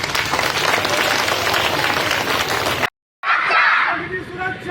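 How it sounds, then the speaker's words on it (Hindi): Schoolchildren at a fire safety mock drill applaud loudly as a cylinder fire is smothered, a dense wash of clapping and crowd noise that cuts out briefly, then resumes with shouting voices. "ताली लगाओ बच्चों।"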